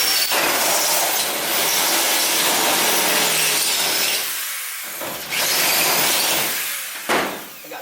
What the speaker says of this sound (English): And you're going to hog that hole out till you get through the spot weld.